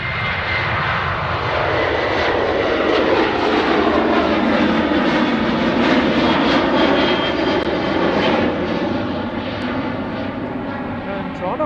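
An airplane takes off at Edmonton International Airport, its engines roaring loud and steady for a long stretch with a sweeping tone as it passes, and voices murmuring underneath.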